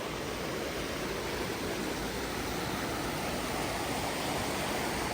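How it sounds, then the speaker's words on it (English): A mountain stream tumbles over rapids and small waterfalls near a high-country base camp in Colorado, a steady, dense rush of water that holds constant throughout with no voices. "More waterfalls. I mean, nothing huge. I guess I'd probably call it rapids."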